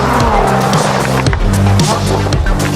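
A Lamborghini Huracan drives with a loud, steady engine and road roar throughout, the pitch shifting as it accelerates, heard close up from inside or beside the car.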